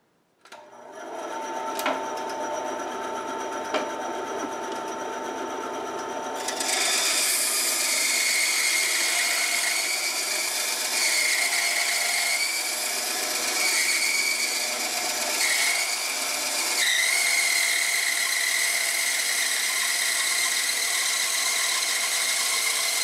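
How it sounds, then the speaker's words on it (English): A small wooden whirligig propeller is carved and sanded with a power tool, producing a steady, close, high-pitched motorized whine that grows louder partway through and runs continuously with slight wavers and no speech. "I'll carve it a little bit, sand it, go back and forth until I get this contour like a nice propeller the way I want it."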